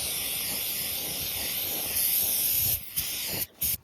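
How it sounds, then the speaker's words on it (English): Brake cleaner sprays in a loud, steady hiss onto a Jeep Cherokee differential, holding for nearly three seconds before breaking into short, abrupt bursts, close by. "we'll take brake cleaner and we'll spray it and clean it all up"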